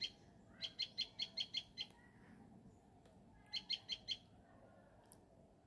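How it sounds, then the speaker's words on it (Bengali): A sparrow chirping nearby, with two quick bursts of about six sharp, evenly spaced tweets separated by a pause, over a faint, quiet background. "আমি যখন ভয়েস দিচ্ছিলাম তখন আমার পাশে একটা পাখি খুব ডাকাডাকি করতেছে"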